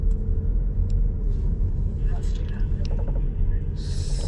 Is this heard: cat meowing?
no